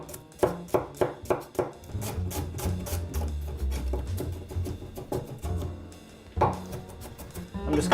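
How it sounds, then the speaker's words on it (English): Knife dicing a shallot finely on a board, rapid rhythmic close chopping taps in bursts with a pause before resuming, no speech. "Next thing, shallot, and get that diced up nice and fine"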